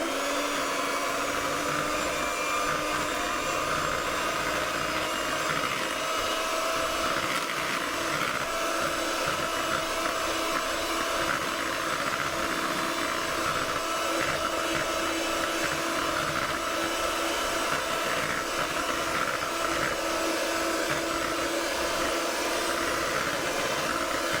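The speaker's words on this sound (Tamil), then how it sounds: "இப்போ நான் இது ரெண்டையும் மிஷினால் அடிச்சிட்டேன்." An electric mixer beats yogurt and other carrot cake batter ingredients in a kitchen, a loud, steady motor whine running continuously without pause.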